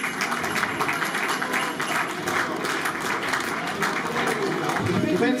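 A crowd claps loudly and steadily at a Willisau carnival guild reception, sustained applause filling the whole stretch with a few voices mixed in.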